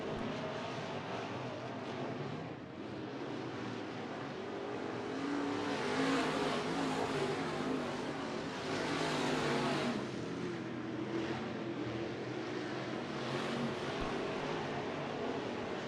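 A pack of race cars in a heat race at Bakersfield Speedway, during the Budweiser Nationals, produces a continuous engine roar that swells and fades as they lap the track, heard from a distance with no voices.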